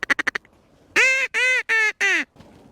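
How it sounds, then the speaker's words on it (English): Ducks on open water in Arizona bottomlands giving a quick run of short clucks, then four loud, drawn-out quacks in a steady rhythm, close and clear with no talk. "These ducks keep circling me."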